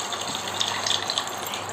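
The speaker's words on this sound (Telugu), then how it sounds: "మనకు కావాల్సినన్ని వాటర్ పోసేసుకుంటే ముక్కలు మునిగేదాకా" Water gushes steadily into a pot of fried fish pieces for a spicy fish stew, a continuous splashing pour with slight bubbling, close by and unaccompanied by speech.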